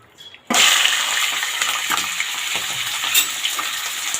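Chicken hitting a hot pan on high flame, bursting into a loud, steady sizzle right after a brief quiet moment, then frying continuously up close with faint stirring clinks.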